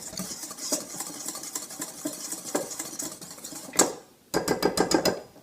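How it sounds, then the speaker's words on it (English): Whisk rapidly stirring dry gluten-free flour mix with sea salt in a mixing bowl, a close, steady clatter of wire against the bowl that pauses briefly near the end before resuming. "I'm going to whisk that together in my mixing bowl."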